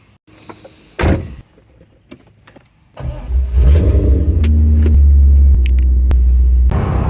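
A Corvette C8 starts up and pulls away: a car door thud and brief rustling give way to a loud, close engine rumble that swells and holds steady, with a few sharp clicks over it.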